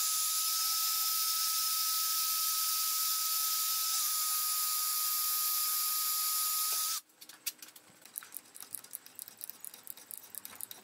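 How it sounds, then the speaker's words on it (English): A drill bores through the front chamfer of a milling machine, a steady high whine for about seven seconds that cuts off abruptly, followed by scattered light clicks and rattles close by. "drill through the chamfer at the front of the mill"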